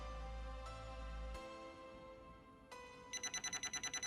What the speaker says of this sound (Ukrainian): Бачите, пішла сигналізація і вібрація.